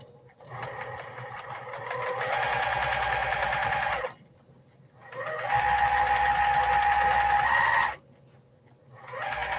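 A sewing machine with a quarter-inch foot stitches small 2.5-inch quilt blocks in two long, steady whirring runs of about three seconds each, separated by a pause; close and loud, with no talking.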